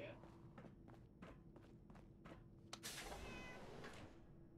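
A cat in the Fallout 4 video game meows and cries faintly amid quick footstep-like taps, a sharp knock, and then a burst of louder noisy sound. Someone talks over it.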